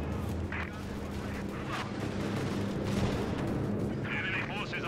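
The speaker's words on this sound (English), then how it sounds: "this mortar with its flare ability is clutch" A mortar lobs flare shells in Company of Heroes 2, heard as thudding artillery reports and hissing bursts over a busy battlefield din, moderately quiet and somewhat distant.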